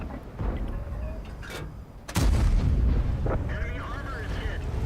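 Tank gun firing in the World of Tanks video game, a single heavy boom with a rumbling tail over continuous game noise, with a voice talking throughout.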